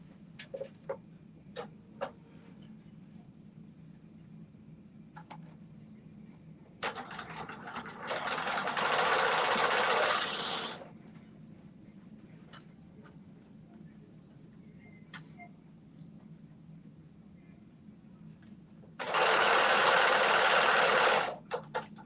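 A home sewing machine runs a 5/8-inch seam on a skirt in two sustained bursts of steady whirring stitching, separated by quiet pauses with light handling clicks.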